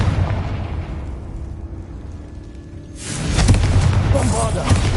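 In Hogwarts Legacy, a Confringo fire spell is cast, and after a low rumble a loud explosive burst erupts about three seconds in, followed by a crackling, roaring blast tail.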